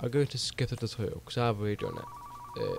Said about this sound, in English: That was the phone. That is how we get orders.